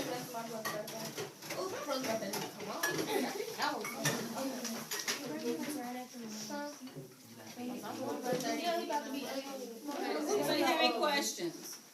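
Dishes being washed in a classroom kitchen, with clinking pots, pans and cutlery under steady chatter from several children and an adult voice throughout.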